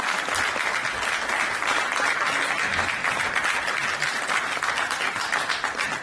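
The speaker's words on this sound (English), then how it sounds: "Don't we deserve yet another big round of applause," A live audience at a book launch applauds after a performed poetry piece, a dense, steady roar of many hands clapping at close range for several seconds without pause.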